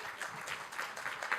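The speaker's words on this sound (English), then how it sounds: "A big applause" Brief, fairly faint applause from an audience at a medical or academic ceremony, scattered clapping lasting just over a second.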